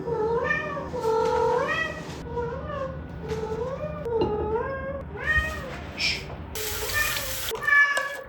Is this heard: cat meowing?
yes